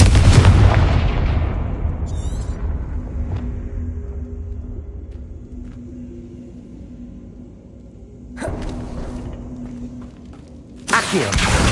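A Confringo fire-blast spell bursts in Hogwarts Legacy. A loud booming explosion at the start decays into a long rumbling tail, followed by a second rumble and another blast near the end.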